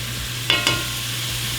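Garlic and ginger fry in a pot, giving a steady soft sizzle with two brief scraping stirs near the start, close and moderately quiet with no talk over it.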